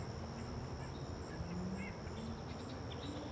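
Canada geese honk faintly in the distance in quiet outdoor ambience near a pond, with a few scattered far-off calls under a steady insect drone.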